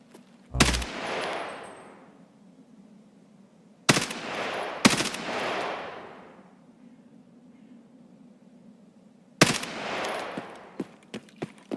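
Video game gunfire from an island escape game: scattered sharp bursts of shots at irregular intervals, some doubled, each decaying over a low steady background hum, with a few quicker small pops near the end.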